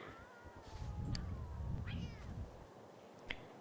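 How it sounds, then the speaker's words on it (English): Two cats fight in The Sims 2, trading drawn-out yowling meows and growls that rise and fall, moderately loud and unaccompanied by talk. "Oh no, the cats are fighting."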